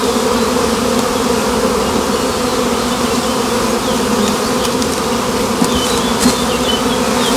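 Honeybees from an overwintered colony swarm around frames being moved from a nucleus hive into a full hive, a dense, steady buzz holding close and loud throughout.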